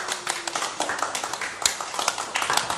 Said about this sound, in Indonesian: Kenapa kok dikasih tepuk tangan?